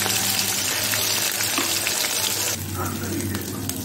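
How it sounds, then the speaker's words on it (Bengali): Onion, ginger and garlic paste fries in oil with black cumin and green chilli for a fish curry, a loud, steady close sizzle that quietens slightly partway through. "তারপর দিয়ে দেবো পেঁয়াজ আদা রসুন বাটা। এটা একটু ভাজা ভাজা করতে হবে।"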